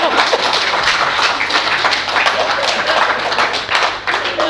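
A large crowd at a devotional discourse claps steadily and densely, a loud continuous wash of hand claps filling the space, with voices mixed faintly underneath.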